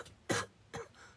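A person gives two short coughs, the first stronger and the second lighter, close and clear in a quiet room with no talking.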